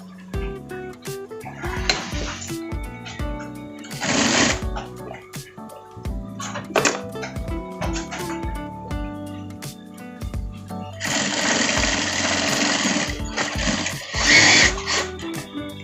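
A sewing machine stitches the front pocket of a parka jacket in several separate bursts of whirring, close up, with pauses and handling clatter between runs and no talk.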